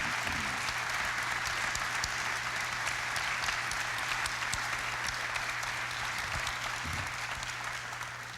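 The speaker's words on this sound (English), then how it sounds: "Let's give a big round of applause" Audience at a formal talk applauding, a steady, sustained wash of clapping from a large crowd that carries on throughout.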